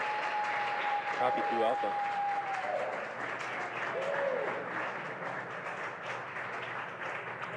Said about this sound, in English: of course the cheering behind me